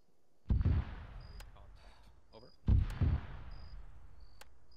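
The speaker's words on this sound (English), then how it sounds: "That's enemy fire." Enemy gunfire in Arma 3 cracks twice, two sharp reports a couple of seconds apart, each followed by a rolling echo that fades out, with quiet ambience in between.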